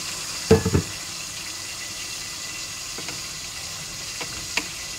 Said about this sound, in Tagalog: Tuloy pa rin ang kulo niya guys kasi